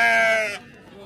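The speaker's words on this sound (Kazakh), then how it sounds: "Қозылы қойлар, чоң қойлар, кішінеке қойлар, тоқты" A single loud, close sheep bleat rings out for about half a second at a sheep and ram livestock market, then cuts off abruptly into quiet background.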